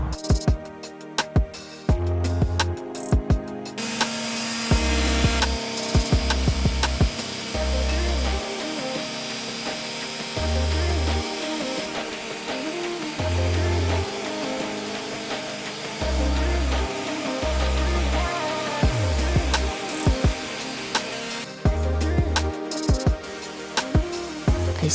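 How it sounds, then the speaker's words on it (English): 80-grit sandpaper rubs repeatedly along the bullnose edge of a wooden stair nosing made from flooring boards, a steady scratchy rasp with rhythmic low thumps from strokes, close and continuous throughout. "I started sanding the bullnose edge of the nosing with 80 grit sandpaper"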